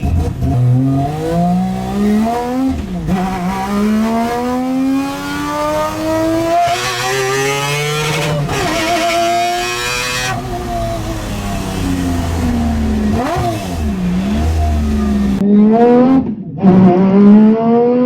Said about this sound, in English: we just heard the RX-7 ripping it